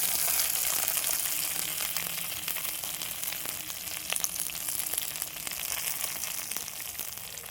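Onions, curry leaves and large tomatoes sauté in a pan for a village-style chicken fry, giving a dense, continuous sizzle close by with occasional soft stirring scrapes and no talking.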